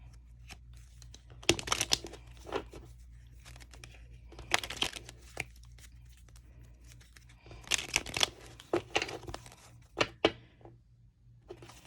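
Crisp riffling and snapping of playing cards being shuffled, in several quick bursts separated by short pauses, close by over a low steady hum.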